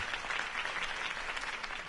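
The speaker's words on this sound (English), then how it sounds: "If only Mr. Wayne, my campaign's largest backer, could have heard that applause" Applause following a campaign speech in a Batman game, steady dense clapping from a crowd, moderately loud and uninterrupted throughout.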